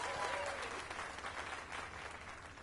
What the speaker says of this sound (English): Let us give a round of applause for young Fulvio, who breathed life into this block of stone